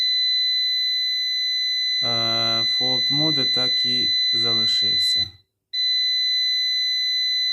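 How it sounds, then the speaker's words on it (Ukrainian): A new PowMr 3 kW inverter's buzzer gives a continuous high-pitched whine that breaks off briefly and resumes, while someone talks over it. "Ну, значить, тоді вимкнемо цього пищика."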